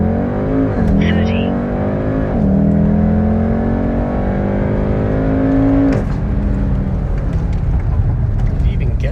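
A 2018 Volkswagen Golf R pulls hard through the gears on a 0-60 run, its engine note climbing steadily and dropping briefly at each shift, loud and close from inside the car.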